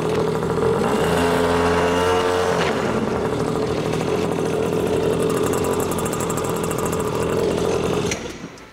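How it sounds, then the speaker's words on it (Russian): A small two-stroke engine on a GBM Roblox 110 kids' quad bike runs close by, with a buzzy revving note that settles into a steady rattling idle before cutting off near the end. "Двигатель тут двухтактный, электрозапуска нет, зато есть очень простой ручной запуск."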